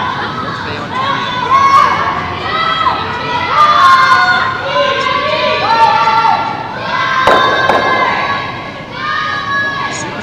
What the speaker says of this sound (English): that trademark Japanese cheer and teamwork and support out on the ice